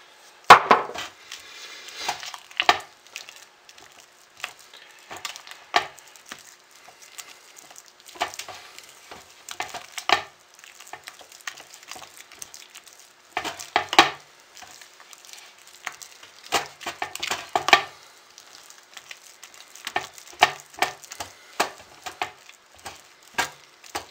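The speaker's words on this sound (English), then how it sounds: "You have to really stir this well to make sure that the soap has completely absorbed it all" Hot process soap is stirred in a crock pot, giving repeated thick scraping and squelching strokes in irregular bursts, close up with quiet gaps between and no voices.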